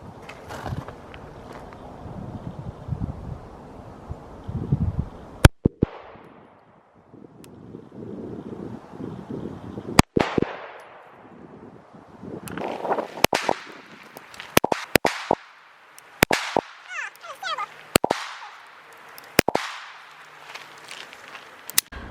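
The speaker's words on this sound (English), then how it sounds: "It's gonna be 2 shots, holster, 2 shots, holster, back and forth." Shots from a CZ PCR Compact pistol fired at 7 yards on an outdoor range, sharp loud cracks coming singly and in quick pairs with pauses between, over steady wind noise on the microphone.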